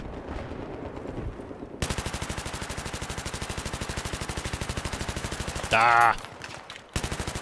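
A machine gun fires in Battlefield 3 on the Strike at Karkand map, a long, fast, evenly spaced burst, loud and close. A short blast interrupts it before firing resumes, and a voice briefly speaks.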